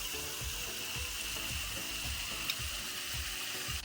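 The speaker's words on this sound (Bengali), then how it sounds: "তার জন্য আমি একটু লালচে করে আলুটাকে ভেজে নিচ্ছি।" Potatoes frying in oil for mutton biryani in a miniature kitchen, a steady soft sizzle with faint watery bubbling throughout, quiet and continuous with no talk.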